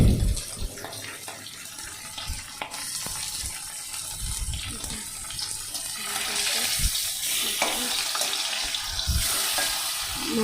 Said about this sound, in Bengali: এবার মাছগুলো আমি একটু উল্টে দেবো।